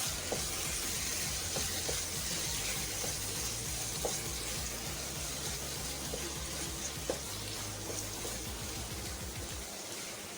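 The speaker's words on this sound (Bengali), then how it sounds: "শেষ ফিনিশিংয়ে আমি অ্যাড করে দিচ্ছি সেই মশলাটা মশলাটা দিয়ে ভালো করে নেড়ে চেড়ে দিব যাতে মশলাটা মিলেমিশে যায়" Taro and shrimp fry with spices in a pan, a dense steady sizzle with soft scraping stir strokes throughout, close and continuous with no voices.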